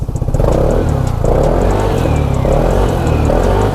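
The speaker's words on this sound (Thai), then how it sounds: "เดี๋ยวผมเบิ้ลให้ดู" A Vespa Primavera 150 Touring scooter engine revs repeatedly in close, loud blips with a clattering mid-pitched idle between throttle bursts, no talking.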